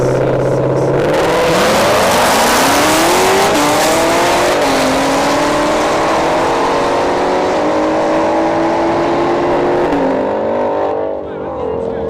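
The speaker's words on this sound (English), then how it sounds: "we got the No Time S555 here in the right lane, lining up against the C7 Z06" A No Time S555 Mustang and a Corvette C7 Z06 launch side by side at ShowTime Dragstrip during a test-and-tune drag race. Engines roar loud and close, pitch climbing through repeated gear shifts, then drop away at the finish.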